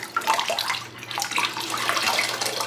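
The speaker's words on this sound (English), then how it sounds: "So I have a bucket here full of cool water, and I'm going to wash out any extra dye." Dyed cotton socks are rinsed by hand in a bucket of cool water, giving close, continuous sloshing and splashing with uneven swirls.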